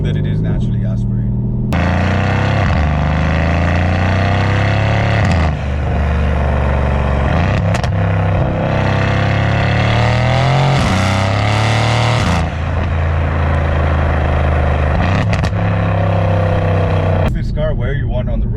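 A Mercedes C63 AMG with a 650 hp turbocharged V8 pulls hard through rising and falling revs, a loud, continuous engine note with gear changes, while someone talks over it.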